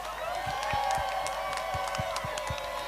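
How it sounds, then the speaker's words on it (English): An audience applauding at a global forum event, a dense continuous wash of clapping with some cheering, steady throughout and moderately loud. "let's give them a huge round of applause because they deserve the world."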